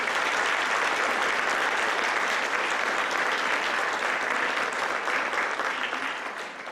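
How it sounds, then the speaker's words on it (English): An audience at a school scholarship and awards program applauds the teachers, a dense, steady round of clapping that holds evenly and fades slightly at the close. "if everybody would please give a big round of applause for all of our teachers"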